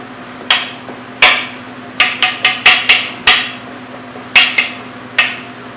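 A cake pan is tapped lightly while being coated for a coffee cake: about a dozen sharp, close taps in an uneven rhythm, some in quick clusters, with no talking.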